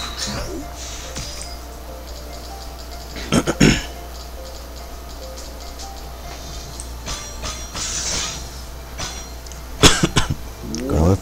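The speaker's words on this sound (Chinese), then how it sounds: "因为讲话我一直咳嗽" A person with a cold coughing while playing a mobile game: two loud, harsh bursts of coughing stand out against a quiet room, with a few fainter throat sounds and some talk in between.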